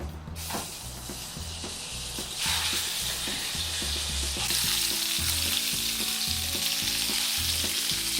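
Meat sizzles and fries loudly in a pan over an open fire at a roadside lunch, a steady dense crackle that swells as more pieces go in, with occasional clanks of the pan.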